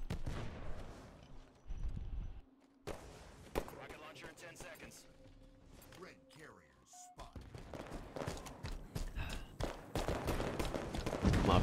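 Gunfire in a multiplayer shooter game, with bursts of rapid shots and scattered single cracks, mid-distance and fairly loud, mixed with game effects and a person talking over parts of it.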